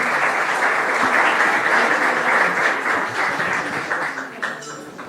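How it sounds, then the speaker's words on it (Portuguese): A live audience at a trading talk applauds two speakers, dense, loud, continuous clapping that thins slightly toward the end. "Senhoras e senhores, uma salva de palmas, né, para esses dois profissionais aqui do mercado."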